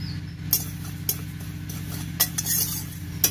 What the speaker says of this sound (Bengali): প্রথমে আমি শুকনো কলায় জিরে ভেজে নেব